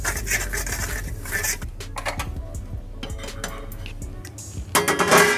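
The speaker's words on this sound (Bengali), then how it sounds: "এরপর আমি এই স্টিলের থালার মধ্যে একটু ঘি মাখিয়ে নিচ্ছি।" Ghee being rubbed over a steel plate while making sesame laddoo: continuous scraping and rubbing of metal, close and fairly loud, with small clinks and a louder clatter near the end.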